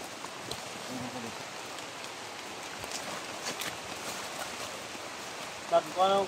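Steady rain pours down in an even, hissing wash, with a brief voice breaking in near the end.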